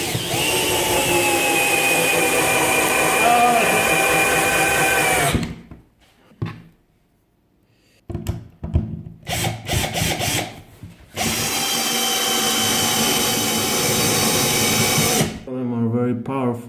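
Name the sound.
Parkside cordless drill driving screws into wood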